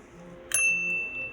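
A single bright ding from a counter service bell of the kind found in brasseries, struck once close by and left ringing with a clear, lingering metallic tone over faint background hum.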